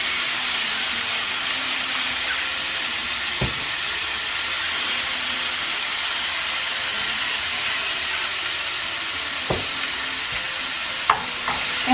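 Ground beef seasoned with salt and pepper frying in a pan, giving a steady, even sizzle throughout with a few brief clicks and utensil taps near the end.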